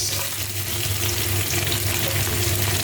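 Garlic and onion sauté for chicken giniling, sizzling steadily in a hot pan with a dense, even frying hiss, close and constant, with no talk.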